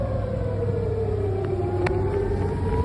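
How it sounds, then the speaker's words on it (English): A long, wailing air raid siren in Haifa drones steadily in the distance, slowly falling in pitch, over a constant low rumble of background noise. "You hear the sirens?"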